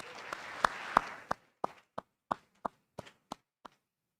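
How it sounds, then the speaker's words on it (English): An audience at an evening lecture applauds, starting as a brief burst of mixed clapping that quickly thins to a dozen scattered, evenly spaced single claps fading out in a quiet hall. "let's give John Murphy a round of applause"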